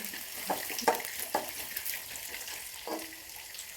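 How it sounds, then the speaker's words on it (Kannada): Garlic and peanuts frying in hot oil, a soft steady sizzle with scattered stirring clacks and scrapes from a spatula, close and fairly quiet throughout. "ಅದೆರಡನ್ನೂ ನೀಟಾಗಿ ಫ್ರೈ ಮಾಡಿದೆ."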